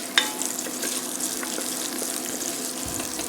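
Onions with a pinch of salt sizzle and fry steadily in a hot pan while aromatics are started for mussels, a constant crackling hiss at moderate level with one sharp clink near the start.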